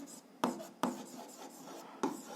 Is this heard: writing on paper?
yes